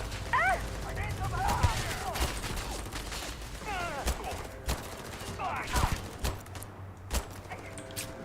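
Gunfire in the sci-fi shooter Starfield: scattered sharp shots and short bursts ring out at moderate level, mixed with game effects and someone talking between and over them.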